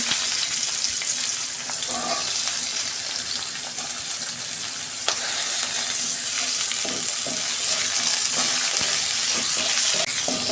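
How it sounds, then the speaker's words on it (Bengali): Salted onion frying in oil for a bhola fish curry, with cinnamon and cardamom in the pan, a steady close hissing sizzle with occasional stirring taps, and no voices. "2 মিনিট ভেজে নেবো পেঁয়াজটা।"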